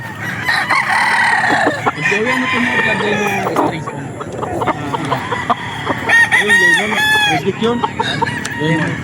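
A spangle stag gamefowl rooster crows at a game farm, its loud, drawn-out calls rising and falling in several bursts over a busy background of other birds clucking and crowing.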